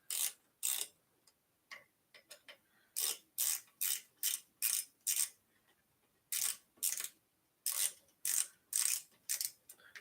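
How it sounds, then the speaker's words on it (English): A ratchet tightens the stem plate bolts on a KBO Ranger cargo e-bike, close, crisp clicking in short bursts of several turns, with brief pauses between groups and no talk over it. "Just tightening down the stem plate."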